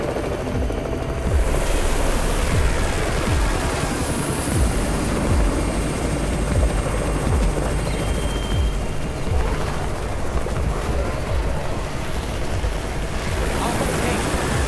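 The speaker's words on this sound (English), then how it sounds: "It's the Raven's chopper!" A helicopter arriving in the video game Undawn fills the scene with rotor thump and engine roar, loud and close, with wind-like rushing noise.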